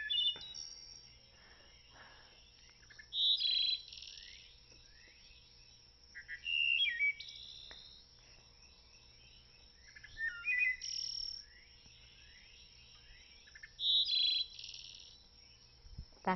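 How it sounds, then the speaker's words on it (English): Clear, flute-like wood thrush song in separate short phrases, each a quick run of bright notes repeated every few seconds, over a faint low hum. "That's the song of the wood thrush"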